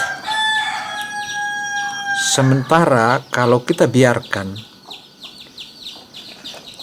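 A rooster crows loudly at close range partway through, mixed with clucking fowl, in a setting where chicks are hatching; someone speaks over and around the crowing, and high chick-like peeps continue afterward.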